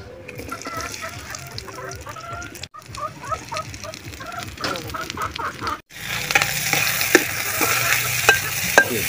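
Gourd curry frying in mustard oil in a pan, stirred with steady scraping strokes over a continuous sizzle, while a rooster crows and chickens cluck nearby; the sizzle grows louder partway through.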